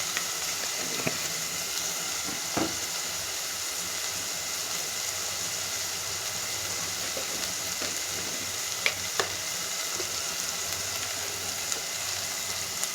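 Chili powder and turmeric frying in a pan for a village-style curry, giving a steady, low sizzle that runs throughout, with occasional light clinks and stirring sounds and no voices.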